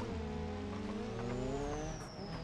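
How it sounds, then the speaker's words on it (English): A car in the BeamNG driving game locking its brakes, with a steady engine drone under a rising, drawn-out tire squeal, loud and continuous with no talk. "I heard him lock his brakes."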